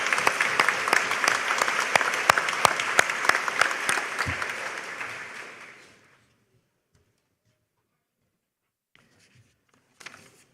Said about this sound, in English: Please join us in a round of applause to recognize the important role of the MGA Foundation and the donors who give to it